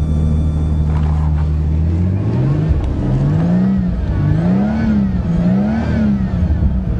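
An old vehicle engine idles steadily after a cold winter start, a loud close rumble with revs rising and falling in a repeating wave.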